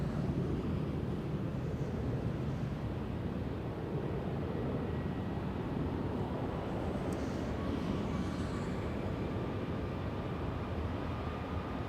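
A Southwest Boeing 737 airliner moving at LAX, a broad steady engine roar and rumble with wind-like hiss that stays loud and constant throughout.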